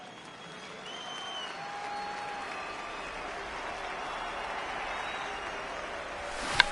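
Crowd cheering and applause rise steadily at a baseball game in MLB The Show 19, a broad distant roar with a sharp crack near the end.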